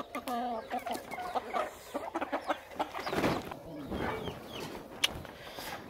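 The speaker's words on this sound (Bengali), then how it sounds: "কি বড় বড় মোরগ।" Big native roosters and hens cluck and chatter in a rural yard on a winter morning, close and lively in repeated bursts, and a few voices are heard near the middle.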